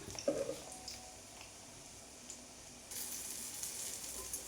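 Eggplant slices frying in a pan with a soft, steady sizzle, a brief spatter near the start and a louder hiss after a few seconds, faint and continuous.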